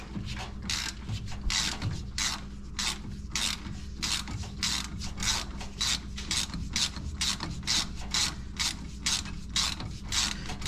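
A ratchet wrench works on the steering column of a 1978 Chevrolet squarebody C10 pickup, giving a steady series of rapid, close clicking strokes repeated rhythmically throughout, with no talk.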